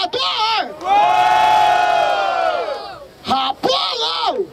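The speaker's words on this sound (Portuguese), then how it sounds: "Barulho para as rimas do Salvador" A crowd at a Brazilian freestyle rap battle semifinal in Barueri, SP roars in one long, loud sustained cheer and shout, framed by an announcer's voice talking just before and after.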